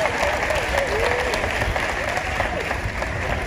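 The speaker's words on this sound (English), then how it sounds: "Clap your hands." A crowd at an NDC political gathering applauds loudly and steadily, a dense, continuous wash of clapping with faint voices mixed in.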